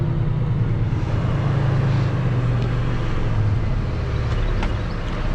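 Heavy delivery truck hauling a 30,000 lb load of stone, its engine droning steadily and loud up close while driving, a continuous low rumble with no talk over it.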